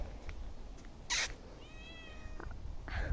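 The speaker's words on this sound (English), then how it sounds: "There's a cat." A cat gives a clear, drawn-out meow at moderate distance, with a couple of brief clicks and soft knocks around it in an otherwise quiet room.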